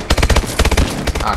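Burst-fire guns in the Call of Duty Exo Zombies video game shoot in rapid, loud, close clusters of shots over about a second and a half.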